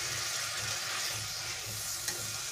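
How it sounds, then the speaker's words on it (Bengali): Water poured into a pan of frying onions and tangra fish, a continuous loud hissing sizzle with soft stirring, one small knock near the end. "এবারে আমি এর মধ্যে জল দিয়ে দেব"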